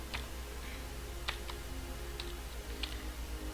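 Fingers typing an IP address on a computer keyboard, a few quiet, sparse key clicks spread over a few seconds against a faint steady background hum.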